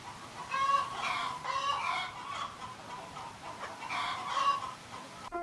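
Chickens cluck steadily throughout, with overlapping hen calls rising and falling at close range in a farmyard setting and no speech.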